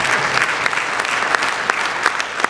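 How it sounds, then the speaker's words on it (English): A small audience at a keynote story-and-song performance claps in a thin, scattered smattering of applause, steady and fairly close, with a few sharper individual claps standing out. "that seemed to be a smattering of applause."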